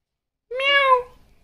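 A child imitates a cat with one drawn-out rising and falling meow, close and clear against silence.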